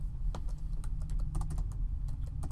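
Rapid, irregular clicking of buttons during video game play, a close dry patter of keys and mouse-like taps that comes in uneven bursts over a steady low hum.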